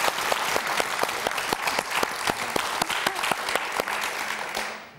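Studio audience of the French TV game show Motus clapping in a fairly regular rhythm, with sharp, evenly spaced beats over a bed of scattered claps, before fading out abruptly at the end.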